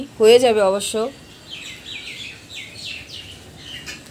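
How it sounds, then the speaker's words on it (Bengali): A few loud chicken clucks ring out close by at an old-age home in a rural setting in Ranaghat, followed by a person talking with faint chirps in the background. "মুরগি রয়েছে, মুরগির ডাকও তোমরা শুনতে পাচ্ছ।"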